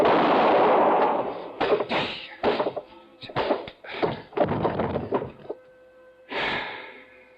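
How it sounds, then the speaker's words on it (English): A gunshot in an old-time radio detective drama set in a cabin, heard among a rapid series of sharp, loud bangs and thuds amid a struggle, with a final burst near the end. "I knew the sound of the gunshot would bring the others back to the cabin"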